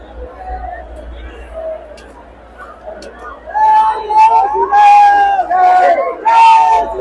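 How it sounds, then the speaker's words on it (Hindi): A large crowd of pilgrims at the Kawad Yatra in Haridwar, with dense chatter and babble, rising into louder collective chants and shouts in the second half, with voices close and throughout. "देखिए दोस्तों यहाँ पर कितनी भीड़ है, कितने सारे श्रद्धालु यहाँ कावड़ लेने के लिए आए हुए हैं।"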